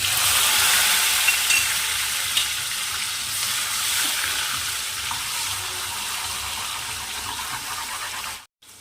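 Tomato, green chilli and curry leaves frying in hot oil, a loud continuous close sizzle and hiss that holds steady for several seconds before cutting off abruptly.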